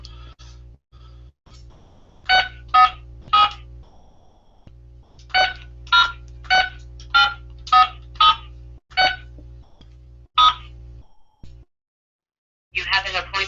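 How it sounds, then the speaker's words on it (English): Phone keypad DTMF tones dial a ten-digit number into an automated IVR phone menu, with two quick groups of crisp, evenly spaced beeps over a low hum and a short burst of other sound at the end. "Enter your 10-digit phone number, press star."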